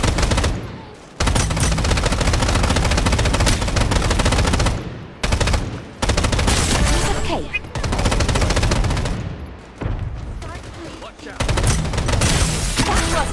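Rapid automatic gunfire from the shooter game Strinova, loud dense bursts filling most of the stretch with brief pauses between volleys.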